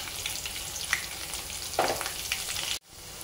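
Tempering spices with turmeric and onion paste fry in hot oil for a potato and fenugreek curry, a steady close sizzle with a few light clinks, then abruptly cuts off near the end.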